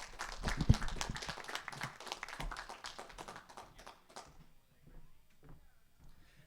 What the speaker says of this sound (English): give him a round of applause, please, folks